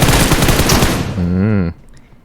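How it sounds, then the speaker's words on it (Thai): Dense rapid gunfire bursts out loudly in PUBG Mobile, then a sustained tonal hum cuts off abruptly, leaving quiet. "โอ้โห มีเสียงปืนด้วย"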